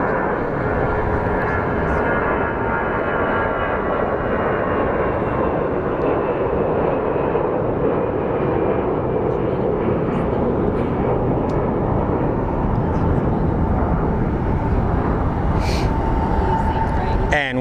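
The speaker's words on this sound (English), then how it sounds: "So here's Frontier Airlines with their typical departures." Frontier Airlines jet departing Phoenix Sky Harbor International Airport, a steady loud engine roar with broadband rumble sustained throughout, rising slightly toward the end, with no speech heard.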